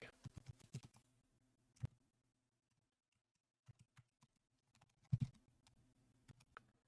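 Bursts of keyboard typing, quick clicking keystrokes in short clusters separated by pauses of near silence, close and fairly quiet.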